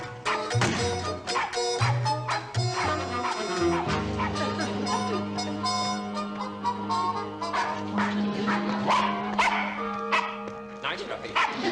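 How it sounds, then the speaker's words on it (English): A small dog barks and yips in a few short bursts amid a busy sitcom soundtrack, with music and people talking over it throughout. "Nice puppy. Nice dog."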